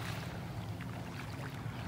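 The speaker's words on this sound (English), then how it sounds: "One of our helicopters that sprays for mosquitoes. They're just above the treetops." A mosquito-spraying helicopter flies just above the treetops near a North Naples, Florida beach, producing a steady, continuous low rumble and drone that holds level throughout, with no voices.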